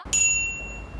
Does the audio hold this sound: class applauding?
no